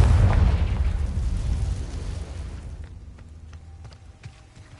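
Confringo spell explosion in Hogwarts Legacy: one loud, deep blast that rolls off into a long, fading rumble, with faint clicks near the end.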